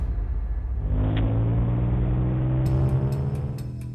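A car accelerates away, its engine rumbling and rising steadily in a close, continuous roar that holds for a few seconds.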